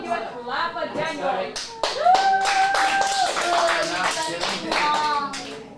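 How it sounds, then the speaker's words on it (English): An acting class claps and cheers for Daniel at a teen script lesson, a dense burst of applause layered under lively talking and a sustained whoop, steady and close throughout. "Everyone give a clap for Daniel."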